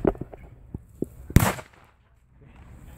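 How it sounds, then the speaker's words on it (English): Grenade blasts in a World War II-style combat video game, a sharp loud explosion burst preceded by a few quick popping shots, then quiet. "Pop two grenades in there."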